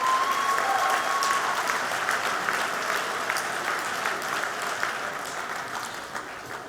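Audience applause at the 2014 Pollie Award Ceremony reception dinner, a dense steady wash of many hands clapping that fills the room and slowly tapers toward the end.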